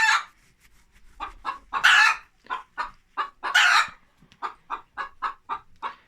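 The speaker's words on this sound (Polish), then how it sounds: "tutaj kurka znosi jajko" A hen clucks loudly while laying an egg, giving a run of sharp, rhythmic clucks and two longer squawking cackles, close by in a quiet coop.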